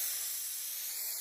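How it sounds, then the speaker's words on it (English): Setting spray misted onto a face, a short continuous hiss of the spray close to the microphone, ending with a brief click. "So we're going to use first spray from the Alba,"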